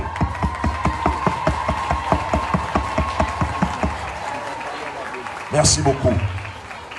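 An audience at a Haitian public gathering claps in a loud, rhythmic unison beat, then the clapping fades as a voice speaks briefly.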